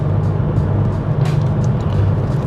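VW Beetle engine pulling steadily under acceleration from inside the cabin, a loud continuous low drone with a stable rumble and no voices.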